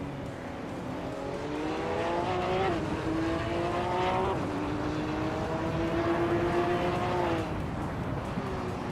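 Race cars in an AI racing video game roar past with a sustained, rising and falling engine whine, several gear-like pitch steps and swells, loud and continuous under a faint background bed.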